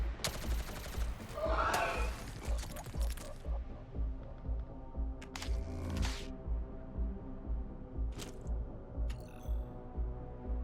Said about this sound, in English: He is about to take so many rounds of fusion machine gun fire.